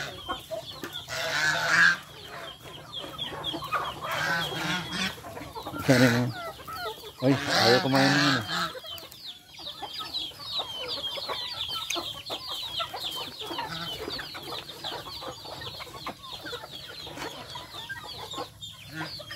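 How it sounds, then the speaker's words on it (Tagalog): Little chicks on a backyard poultry farm cluck and peep steadily and close by, a busy chorus running the whole time, with a person talking over it in the first half. "nakapasok na yung ating mga bulilit na manok"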